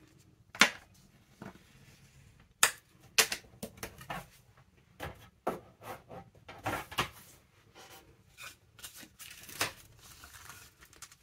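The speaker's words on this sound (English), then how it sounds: "I'm just going to bone folder that down." A bone folder creases a paper envelope made from junk mail along its score line, giving a series of close, sharp rubbing strokes and crisp paper clicks in an irregular rhythm, with soft rustling between them.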